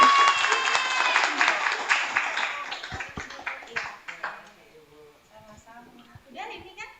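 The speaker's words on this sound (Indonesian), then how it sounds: "Beri tepuk tangan yang meriah." Attendees at the opening of a festival workshop applaud, a burst of crowd clapping that quickly fades into scattered claps, murmuring and voices, including a child's, with people talking over the tail.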